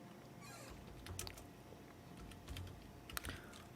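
Quick clusters of computer keyboard keystrokes with a few sharper taps, close and fairly quiet against a faint steady room hum, no voices.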